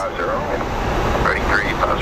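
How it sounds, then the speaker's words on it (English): A Boeing 757 airliner at Phoenix Sky Harbor International Airport gives off a steady, broad jet roar that holds evenly throughout, with faint voice-like sounds over it. "It is a Boeing 757."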